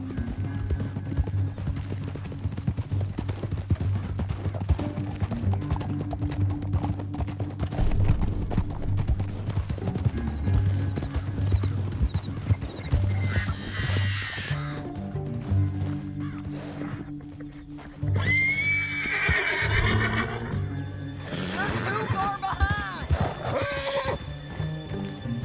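Horses in the Red Dead Redemption 2 video game gallop with rapid rhythmic hoofbeats, then slow. Loud neighs and whinnies break out near the end.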